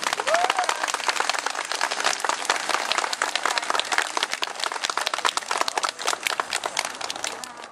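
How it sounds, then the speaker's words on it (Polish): Audience applause for police officers at a school open day: dense, steady clapping from a crowd runs loud and continuous throughout. "prosiłbym o oklaski dla policjantów."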